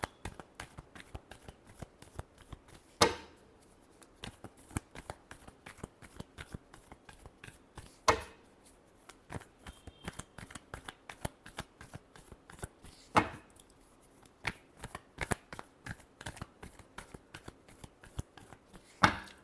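Tarot cards are shuffled in quick, crisp riffles and slaps, a dense run of sharp clicks with a few louder snaps spaced every few seconds, close and dry with no voices.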